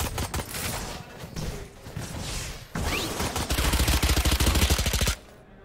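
Gunfire in the Valorant video game: dense, loud automatic bursts with rapid rattling shots, a short break, then a sustained stream of fast fire that cuts off abruptly near the end.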